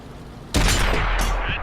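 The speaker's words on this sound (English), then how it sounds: "100 meter distance, head on, lower glacis shot." A World of Tanks cannon shot at a tank's lower glacis from 100 meters, one sudden loud boom with a long heavy rumbling tail and a second thud partway through, no talk.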